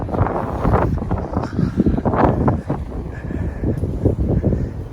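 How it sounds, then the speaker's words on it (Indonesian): Cold winter wind in Beijing buffets the microphone with a steady, loud roaring rush that gusts and swells throughout, with no clear voices. "untuk cuaca dingin begini, ada angin begini lumayan tetap sih"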